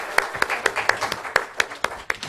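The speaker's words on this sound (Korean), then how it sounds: "우리 다 같이 뜨겁게 박수 한번 더 쳐줍시다" A church congregation claps together in a steady rhythmic beat, crisp individual claps repeating about four times a second, close and fairly loud.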